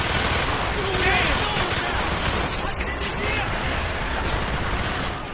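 Dense gunfire from the video game Call of Duty: Black Ops, with rapid overlapping shots forming a loud, continuous barrage. Voices shout over the shooting throughout.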